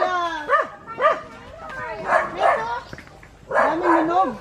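A dog in Makilala, Philippines barks in several loud, close bursts with yips and whimpering tones between them, a person speaking alongside.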